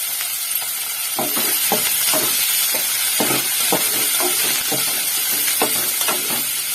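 Onions sizzle steadily in a pan of hot oil with curry leaves for coconut chutney, a loud continuous hiss broken by irregular clacks of a spoon stirring against the pan, close up and without talk.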